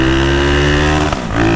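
Loud, close Nova Today motorcycle engine revving with a strong buzzing drone held high, then briefly dipping as the revs fall and climbing back up.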